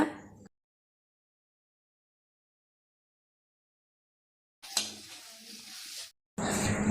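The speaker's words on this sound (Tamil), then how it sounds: "மிளகாய்த்தூளை ஒரு 2 செகண்ட் நல்லா கிளறி விடுங்க," Chili powder is stirred and sizzling in a pan of half-cooked drumstick poricha kuzhambu, heard in short bursts at the start and end around a long silence, with a voice talking over it.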